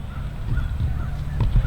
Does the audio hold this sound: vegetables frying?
no